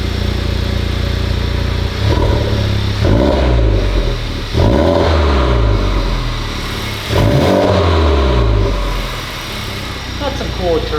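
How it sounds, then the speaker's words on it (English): A Honda Civic Type R fitted with a bigger turbo and new downpipe revs in repeated bursts, each swelling to a loud whine and dropping back to idle, with turbo whooshes between pulls while people chat nearby. "Got some cool turbo-y noises."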